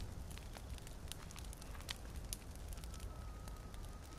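A campfire crackles in the survival game The Forest with faint, scattered pops over a soft hiss. A thin tone enters near the end; the whole scene stays quiet.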